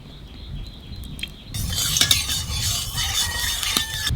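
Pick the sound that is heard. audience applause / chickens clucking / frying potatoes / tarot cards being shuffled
frying potatoes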